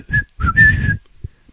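A person whistles three short, clear notes, the last one held a bit longer, imitating a baseball dugout signal up close with no other sound around it.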